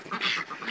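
A male duck at a government duck breeding centre gives a few rough, raspy quacks in quick succession, close and fairly clear.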